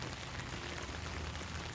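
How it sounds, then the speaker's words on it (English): Steady rain falling outdoors on a soggy evening, a continuous broadband hiss of drops on surfaces with no break, fairly quiet and even throughout, with no talk over it. "I didn't let the pecans out today because of rain, and it's continued all day"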